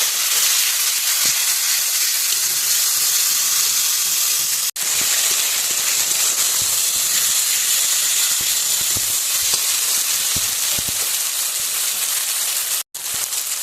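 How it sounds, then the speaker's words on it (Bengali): Ginger, cumin, garlic, onion and chilli paste frying in a pan gives a loud, steady sizzling hiss throughout, broken by two brief dropouts, with no talking. "আদা বাটা, জিরা বাটা, রসুন বাটা, পেঁয়াজ বাটা, লঙ্কা বাটা একসাথে দিয়ে দিলাম। এবার এটা খুব ভালো করে কষাবো।"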